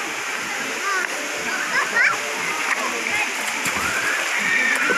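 Mayahay Falls pours in a steady, close rush of splashing water that fills the whole stretch, with faint voices of children and people audible underneath.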